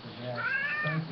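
A house cat meows once in a drawn-out, rising call, close and clear indoors, with a faint voice murmuring underneath.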